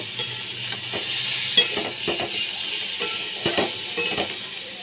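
Taro and potatoes frying in a pan, a steady sizzle broken by scraping stirs and occasional clinks of a utensil against the pan.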